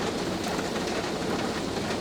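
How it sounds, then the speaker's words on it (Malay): Heavy rain pours down in a steady, dense, even hiss that fills the whole scene without a break. No voices are heard. "Tepat-tepat hujan lebat"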